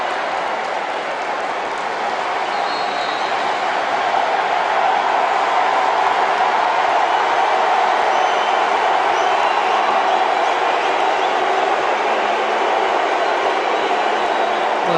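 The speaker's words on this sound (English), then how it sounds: "Listen to the crowd here." Ghana and Nigeria football fans at a Unity Cup match fill a stadium with a broad, steady roar of crowd noise that holds at a constant level throughout.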